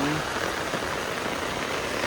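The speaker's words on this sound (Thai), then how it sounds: "โคตรฝน" Heavy rain pouring steadily, a dense, constant hiss of drops drumming on a surface with no break.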